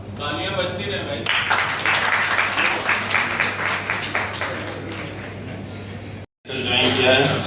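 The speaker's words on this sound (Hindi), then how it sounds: "तालियां बजती रहे भाई।" An audience at a local event in Varanasi claps steadily for several seconds while someone speaks over the applause, which cuts out briefly before resuming.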